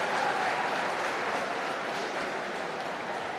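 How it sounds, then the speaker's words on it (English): Steady applause from a crowd at a swimming championship finals, a continuous wash of clapping that holds at an even level throughout, with no voices standing out. "Round of applause for Asher Smith Franklin, ladies and gentlemen."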